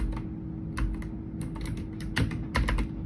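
A computer keyboard is typed on up close as a command is entered, a steady run of sharp, distinct key clicks over a constant low hum, with no voices.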